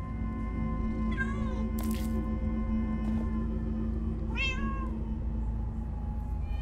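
Cats meowing in the video game Minecraft: Story Mode, with two drawn-out meows standing out over a constant loud droning background of game music and ambience.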